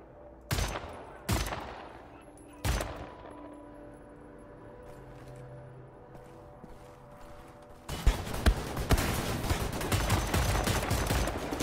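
Three loud, well-spaced single gunshots ring out in Wolfenstein: The New Order, each with a ringing tail. After a quiet stretch, a sustained, loud burst of rapid automatic fire follows.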